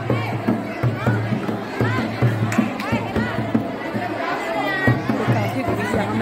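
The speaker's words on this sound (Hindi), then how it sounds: "काफी भीड़ यहाँ महिला संगीत" Crowd chatter at a Kumaoni women's sangeet: dense overlapping voices of many people talking at once, steady and close, with a pulsing low beat of music underneath.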